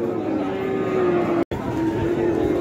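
A cow at a Qurbani cattle market gives a long, loud, steady moo that briefly breaks off and resumes, close by over a murmur of crowd noise.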